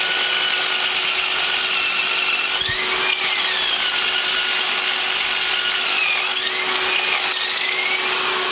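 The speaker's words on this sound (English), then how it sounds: "that's the holes all drilled, all 6 holes to mount my lathe" A power drill bores the six mounting holes for a lathe, a steady loud whine with continuous grinding and chatter that shifts pitch slightly partway through, close up and with no talk.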